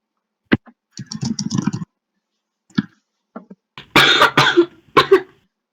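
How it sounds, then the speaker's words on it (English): A person coughs nervously in a few short, separate bursts, the louder and denser ones coming near the end, with quiet gaps between them and no other voices. "Ozla coughs nervously"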